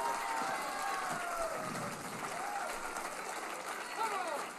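A large crowd cheers and applauds in a continuous, moderately distant roar, with scattered whoops and shouts rising above the steady noise and no clear speech.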